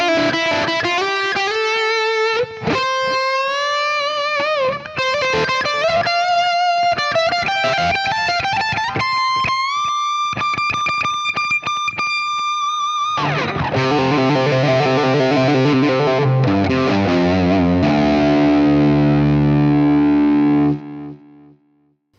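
An electric guitar with heavy distortion through a Fractal FM3/FM9 preset for a song plays single notes climbing steadily up the neck, then shifts to ringing chordal phrases before cutting off, loud and alone.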